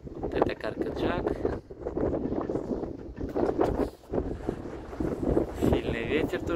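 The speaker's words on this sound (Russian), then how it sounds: "Сильный ветер тоже сегодня." Wind gusts over a high-floor balcony in Alanya, Turkey, a moderate rumbling buffeting that rises and falls beneath steady talking throughout.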